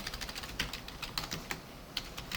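Quick keystrokes on a computer keyboard while CSS code is written, an irregular run of light clicks with occasional louder taps, close and alone without talk.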